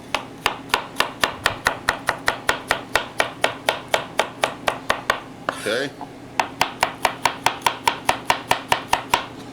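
Rapid, steady sharp-knife chops through vegetables on a cutting board, dozens of crisp close strikes in even rhythm, briefly interrupted by a short spoken word.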